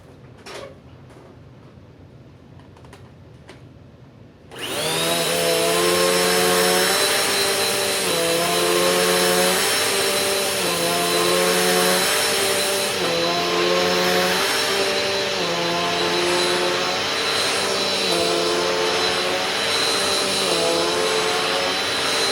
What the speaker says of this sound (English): So here we do the pre-vacuum.